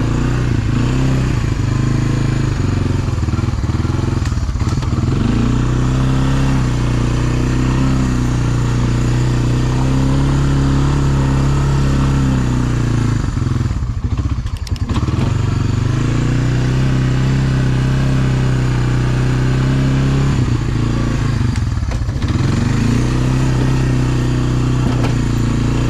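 A Honda ATV engine idles steadily and loudly for the whole stretch, a low droning rumble with a few brief dips and surges, with no voices over it.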